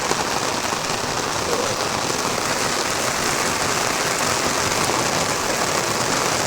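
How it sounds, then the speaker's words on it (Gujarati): Heavy downpour drums steadily on a farm, a dense, loud, unbroken hiss of rain with no pauses. "બાકી આજ જોરદાર બાપા જીકી બોલાવી દેવાનો હે વરસાદ"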